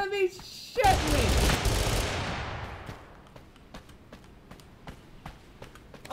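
A musket pistol in Totally Accurate Battlegrounds fires one loud, close shot that booms and fades over a long echoing tail, followed by scattered faint clicks and small impacts.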